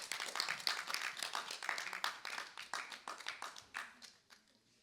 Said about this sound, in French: On applaudit Mbelo, s'il vous plaît.